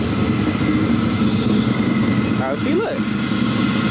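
A 1987 Chevrolet El Camino, due for an LS engine swap, idles steadily after being started, a low continuous rumble running throughout with a person speaking briefly over it.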